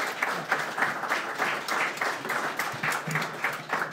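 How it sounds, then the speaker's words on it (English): Applause from the audience at a Democratic town committee candidates forum, moderately quiet, rhythmic clapping that sounds somewhat distant, continuing steadily for a few seconds. "Let's have a big round of applause for these two excellent candidates."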